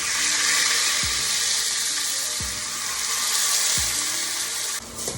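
Soaked rice tipped into hot ghee for jeera rice, giving a loud continuous sizzle and fry, with a few soft low knocks of stirring spaced through it.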